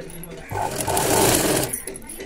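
Sewing machine stitching piping onto a square-neck blouse, a steady close mechanical whirr that swells for about a second and a half, with a voice talking underneath.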